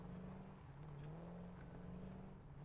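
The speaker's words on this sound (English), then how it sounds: "it's making the sound as though it was moving" An idling lorry engine in the factory-building game Satisfactory gives a steady low motor drone with a faint wavering pitch, sounding as if the vehicle were driving, and heard alone without talk.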